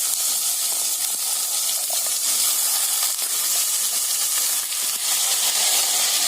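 Cut carrots and beans hit a hot pan for a Tamil carrot beans poriyal, giving a steady, close, even sizzle and hiss with no talk.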